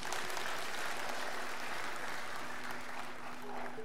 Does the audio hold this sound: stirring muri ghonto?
no